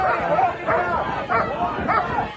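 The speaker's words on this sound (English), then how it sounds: "That dog's excited." An excited dog barks and yips in quick repeated bursts close by, with people talking underneath.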